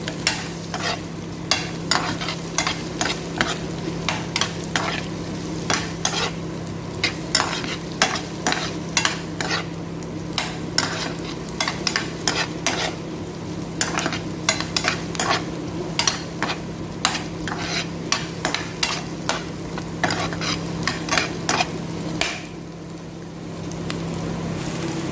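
Cubed chicken stirred in a frying pan, a steady sizzle under a low hum with frequent, irregular spatula scrapes and clacks close up throughout, no talking.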